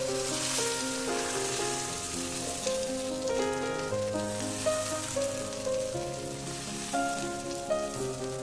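Thin fasting amboli batter sizzles steadily on a chapati griddle, a continuous close crackle and hiss with faint tonal sounds running underneath.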